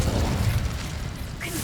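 An Incendio fire spell cast in the Hogwarts Legacy game, a short crackling whoosh of flame with a brief bright burst near the end.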